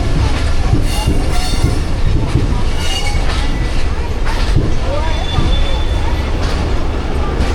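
A train rake rolls past at close range toward the washing line at a Karachi rail yard, a loud continuous rumble with wheel clatter and squeal, and someone talks over it.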